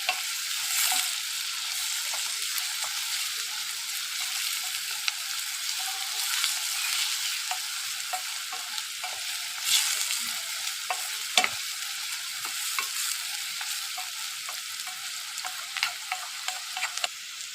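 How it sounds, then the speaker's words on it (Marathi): Mushroom masala sizzling steadily in a pan while it is stirred, a bright continuous hiss with scattered soft scrapes and taps, heard close up with no speech. "आता तुम्ही बघू शकता हे आपण चांगले फ्राय करत आहोत."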